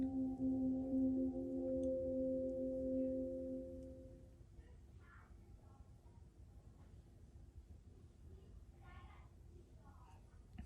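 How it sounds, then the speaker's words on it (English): An Amazon Echo Show 8 starting up plays a steady humming boot-up tone for about four seconds, then it fades and leaves faint room noise with soft scattered sounds. "So there's kind of like a boot up jingle, more of a hum."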